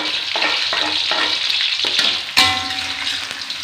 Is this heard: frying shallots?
yes